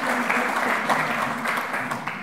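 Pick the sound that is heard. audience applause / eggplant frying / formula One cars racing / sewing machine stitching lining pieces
audience applause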